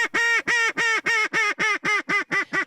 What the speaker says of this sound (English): both ducks and geese, now well off in the distance